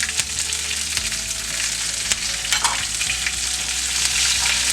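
Curry leaves and green chilies hit hot oil with roasted dals for rava idli, a loud close sizzle with bursts of popping and stirring scrapes throughout, no talking.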